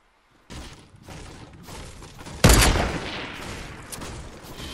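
Gunfire in Fortnite starts abruptly as a stream of rapid shots, with one loud heavy blast midway followed by more shots and a trailing rumble.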